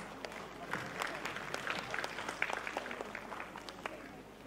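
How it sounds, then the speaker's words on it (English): Moderate, fairly distant clapping from an audience at a preschool annual day function, with individual claps standing out over a soft crowd murmur. "Let's give them a big round of applause"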